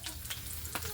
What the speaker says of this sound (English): Let that fry a little